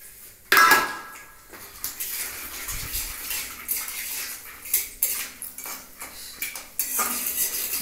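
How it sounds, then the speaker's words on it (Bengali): Peanuts being fried and stirred in a metal pan make a busy clatter of utensil clinks and scrapes against the pan, coming in irregular bursts over a soft background hiss. "একটু বাদামটাও ভেজে নিচ্ছি ওপর দিয়ে"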